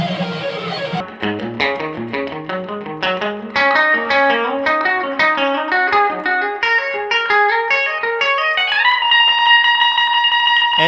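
Electric guitar played through a Fender amp with distortion, loud and continuous: a run of chords and picked notes that climbs in pitch before settling into a sustained ringing chord, with effects and reverb colouring the tone.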